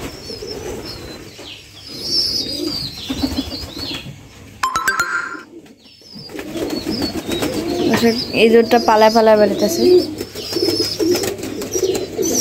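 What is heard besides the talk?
pigeons and pigeon chick in a loft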